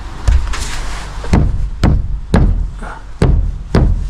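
Plywood roof sheathing over trusses is struck by hand to check the nailing, giving about six dull, heavy thumps at irregular intervals, each with a slight ticking edge, with no voices.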